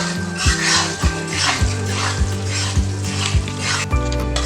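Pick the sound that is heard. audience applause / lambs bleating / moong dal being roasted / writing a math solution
moong dal being roasted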